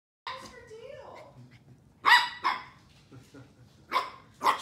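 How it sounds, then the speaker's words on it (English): A corgi puppy barks in a few sharp, loud bursts close by, with quieter vocal sounds and background noise in between. "She would bark at any car that drove down the street"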